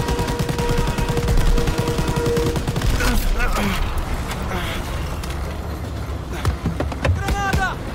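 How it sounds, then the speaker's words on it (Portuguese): Dense, continuous machine-gun fire and battle noise from the World War II shooter Call of Duty WWII, loud and steady for several seconds before thinning out, with voices shouting over the combat. "Metralhadora!"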